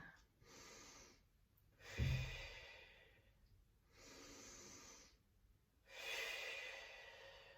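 Slow, deliberate Pilates breaths during an advanced full-body workout, four long airy exhalations in steady rhythm separated by short quiet gaps, close and fairly soft, with a faint low thump near the second breath and no talking.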